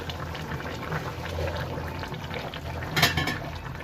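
Rui fish curry with cauliflower, potato and lentil dumplings bubbles steadily in a pot on a gas stove, a close, continuous simmering burble with one brief metallic clink near the end.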